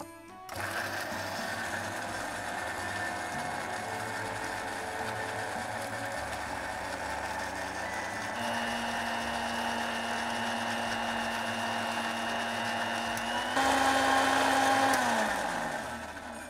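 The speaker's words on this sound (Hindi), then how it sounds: "मिक्सी में ब्लेंड करेंगे।" An electric blender blends gulkand in its jar, whirring steadily for a long stretch, its motor pitch shifting midway and rising louder before spinning down at the end.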